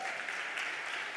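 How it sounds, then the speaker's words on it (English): Audience applause at a women's empowerment event, a soft, even patter of clapping from a crowd, fairly faint and brief. "Can you give yourselves a big round of applause?"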